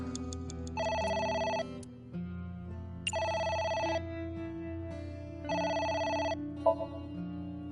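A telephone rings in the video game AI The Somnium Files, three evenly spaced electronic ring bursts, each about a second long, sounding clearly over soft background music with no speech.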